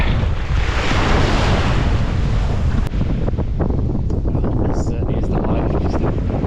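Strong wind buffets the microphone at a beach near Yeppoon and Great Keppel Island while surf roars steadily underneath, loud and continuous throughout.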